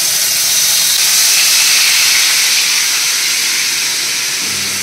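Ground onion paste dropped into hot oil with fried nigella seeds, a loud close steady hiss of sizzling that holds evenly for several seconds without any voices.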